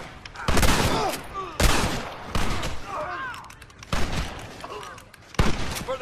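Rapid gunfire from Red Dead Redemption comes in sharp, loud volleys, repeated bursts of overlapping shots spread across the span with brief lulls between them.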